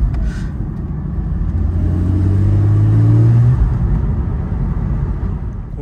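Porsche 718 Spyder with its 4.0-litre 420 hp engine, a steady deep rumble that swells as the car gets on the power, then holds a smooth drone, close and loud with no talk.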